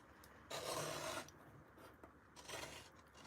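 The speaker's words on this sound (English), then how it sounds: "So if you line your paper trimmer up at 1 3/4, like this" A paper trimmer slices through card stock for a Christmas card with two close, raspy scraping strokes, the first longer and the second shorter.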